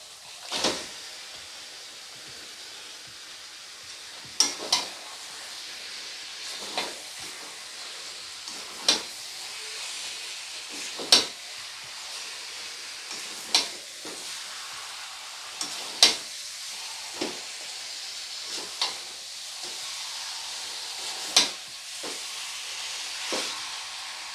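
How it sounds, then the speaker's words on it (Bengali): Marinated chicken frying in a pan, a steady soft sizzle and hiss broken by regular sharp scraping stirs roughly every two seconds, close and moderately quiet, with no talking. "এরপরে দিয়ে দেবো ম্যারিনেশন করা চিকেনটা।"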